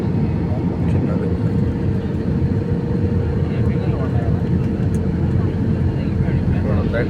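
A small plane flies near an airport, its steady engine drone holding loud and close throughout, thick with low rumble and broadband noise.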